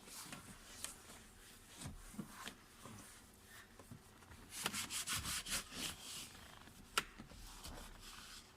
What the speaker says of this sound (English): Wiping down the dashboard.